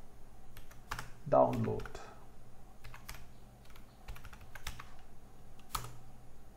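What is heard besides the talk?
typing on a computer keyboard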